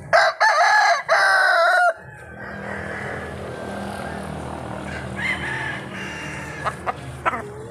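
A rooster gives a loud crow in a few bursts up close, followed by softer clucking from chickens over a low background hum.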